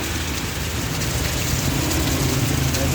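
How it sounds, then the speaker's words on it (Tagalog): Heavy rain pours steadily over a parked motorcycle outdoors in Binangonan, a dense continuous wash of noise with a low engine-like rumble beneath, no voices. "Yan, lahat ng ulan."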